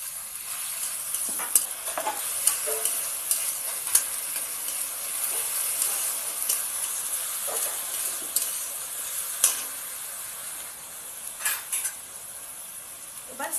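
Ginger-garlic paste sautéing in a pan for a paneer dish, a steady hiss of frying with a spoon scraping and clinking against the pan at intervals, close and fairly quiet.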